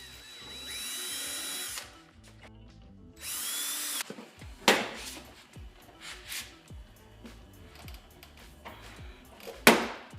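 Two sustained whines of a power drill drilling into a car bumper to fit quick latch fasteners, then scattered knocks, clicks and handling clatter of tools at close range.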